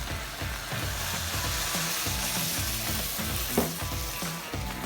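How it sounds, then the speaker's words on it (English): Half a can of Guinness sizzles and bubbles steadily in a hot pan, a loud continuous fizzing hiss with faint stirring clunks underneath and no talking. "we're going to pop in about half a can of Guinness"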